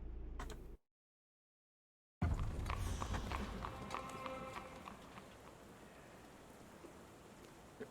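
Steady rain patters through a Victorian-era Sherlock Holmes video game scene, broken by a brief silent gap, with soft clip-clop of horse hooves mixed into the wet, hissing wash that gradually eases.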